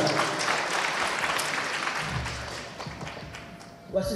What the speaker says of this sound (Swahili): Tuongeze makofi tafadhali.